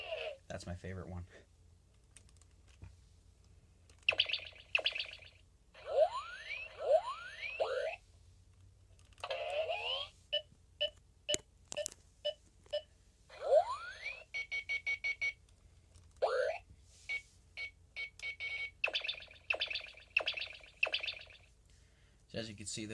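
Electronic effects from a Toy Story Collection Buzz Lightyear utility belt toy: bursts of chirpy beeps, quick rising zaps and rapid clicking pulses in irregular clusters separated by brief pauses, close up and unaccompanied by speech.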